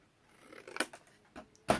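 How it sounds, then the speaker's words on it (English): Scissors snipping the corners of a paper sheet to form a pocket for a mini album, three short crisp cuts spaced apart, close and fairly quiet with no talk. "so I'm going to cut the corners"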